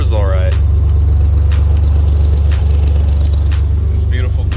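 Old Jeep with dual exit exhaust idling after its first start in 30 years, a steady close low-pitched drone that holds for the whole stretch under intermittent voices.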